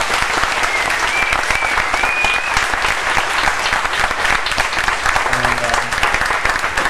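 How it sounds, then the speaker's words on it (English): An audience on a cruise ship applauds the actors with loud, sustained clapping from many hands, a thick steady crackle that continues for several seconds, with a few faint whistles and brief voices mixed in. "Give them a round of applause"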